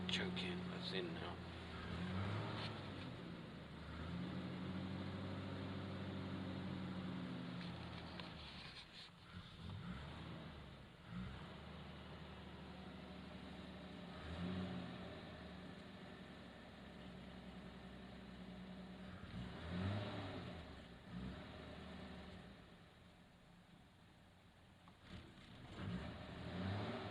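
A 1949 Dodge engine warming up at a steady mid-pitched idle with occasional revving swells, heard close throughout; no talking.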